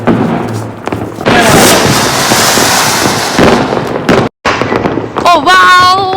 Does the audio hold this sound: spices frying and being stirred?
no